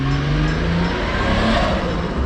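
A VR6 turbo wagon pulls away, its engine droning loudly and steadily close by with a low rumble, no voices.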